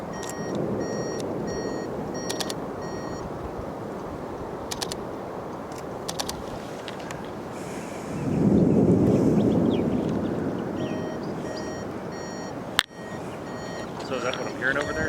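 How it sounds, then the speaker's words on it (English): Steady broadband wind roars near a tornado during a Texas supercell at Robert Lee, swelling into a louder gust midway, while people talk over it and faint electronic beeps come and go. "No, that's general wind."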